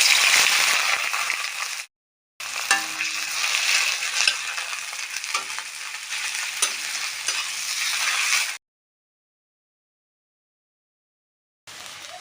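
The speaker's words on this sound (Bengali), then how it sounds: "দিয়ে দেব পেঁয়াজ কোচানো।" Sliced onions fry in hot oil with a continuous bright sizzle and occasional stirring scrapes, interrupted by a brief gap, then falling silent for several seconds before the sizzle briefly returns.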